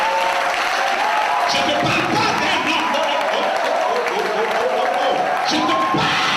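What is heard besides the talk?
congregation applauding and cheering in church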